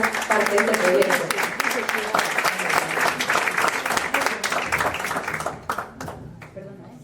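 An audience at a public forum applauds with dense, steady clapping that thins out and fades near the end.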